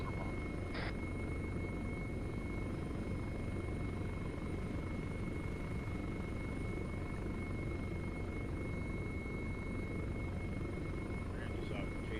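Helicopter in a military video game, a steady, unbroken rotor and engine drone heard at moderate distance throughout, with a faint steady whine above it.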